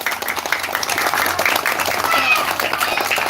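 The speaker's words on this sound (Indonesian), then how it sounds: "Tepuk tangannya untuk Kak Raya." Audience applause at a live event, a dense, continuous patter of clapping hands sustained throughout at moderate loudness, with voices mixed in.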